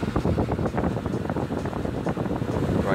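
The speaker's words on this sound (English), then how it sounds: "There's the blower." An RV furnace blower fan runs with its cover off, pushing air straight out in a steady, close, even rushing whoosh that holds for the whole stretch with no speech over it.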